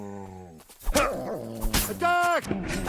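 Dog barking and yipping in Kingdom Come Deliverance 2, a few short sharp barks mixed with whimpering tones, close by and interleaved with someone talking over game music.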